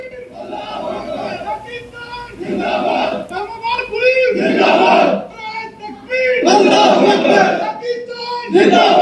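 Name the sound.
police officers chanting Nara-e-Takbeer, Allahu Akbar, Pakistan Zindabad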